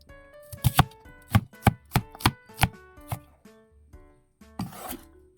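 Onion and garlic are chopped on a board, with a quick run of sharp close knife strikes, a pause, then a few more cuts and a scraping sweep at the end, with no talk.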